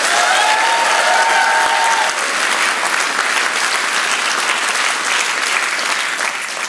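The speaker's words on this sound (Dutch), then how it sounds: "Maak een applaus voor Alex Agnew!" Dense, sustained studio audience applause on a live Flemish comedy talk show, loud and steady with a brief musical sting at the start, continuing without letup.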